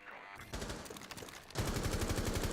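Gunfire fired through a wall in a Rainbow Six Siege match: a brief rattle of shots, then a second louder burst of rapid fire near the end.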